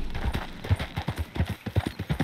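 Horse hooves clip-clop in a steady rhythm in Red Dead Redemption 2, a run of close, distinct thuds sounding alone with no talk.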